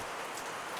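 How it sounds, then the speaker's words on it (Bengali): Heavy rain falls in the hills of Kurseong, a dense, even hiss of drops on surfaces, steady and unbroken with no voices. "প্রচণ্ড বৃষ্টি হচ্ছে, কিছু দেখা যাচ্ছে না।"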